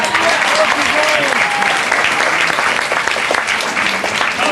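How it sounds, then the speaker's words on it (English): An audience at a gator wrestling show breaks into sustained, even applause, a dense wash of clapping with some voices mixed in that holds steady throughout. "So everybody give a big round of applause for Nathan."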